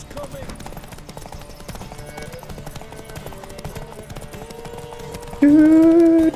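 Horses gallop in a steady clip-clop during a derby race in The Witcher 3, hooves pounding under race music and a shouted voice, with a loud tonal sound cutting in near the end.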